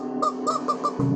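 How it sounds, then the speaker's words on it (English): A rubber chicken toy squeaks in a rapid run of about five short honking squawks, fairly faint and close, in a quiet thrift store setting. "There's even a rubber chicken."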